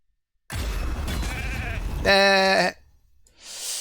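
A sheep bleat sound effect from a polymorph spell in a video game arena match, one sustained wavering bleat following a stretch of game noise, fairly loud and clear.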